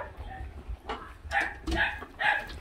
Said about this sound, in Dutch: Laat ze lekker blaffen.